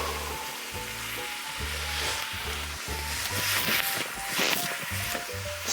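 Tofu stir-fries in a hot pan in a kitchen, with loud continuous sizzling and frying broken by repeated scraping and stirring strokes, close and alone without talk.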